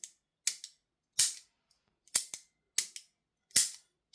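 An HK416A5 replica gun mechanism dry-fires and resets, giving six sharp, close mechanical clicks and snaps in an uneven rhythm with short silences between them.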